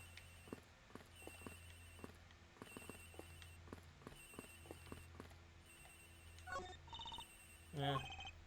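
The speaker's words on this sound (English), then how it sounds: "Agent Hick's phone is ringing from somewhere, sir." In the Ace Attorney Investigations video game, a cell phone ringtone chimes out near the end, after a run of soft, regular ticking taps, all fairly quiet.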